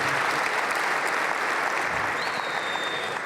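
A church congregation applauding during a sermon: dense, steady clapping from many people that fills the room at constant loudness, with a brief faint tone near the end.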